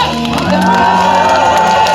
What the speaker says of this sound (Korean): 큰 박수와 함성 한 번만 부탁드릴게요